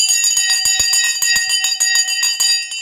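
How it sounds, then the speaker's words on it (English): Stock market closing bell ringing continuously, a loud sustained metallic clang with rapid repeated strikes lasting throughout. "We're about to ring the bell in 20 seconds."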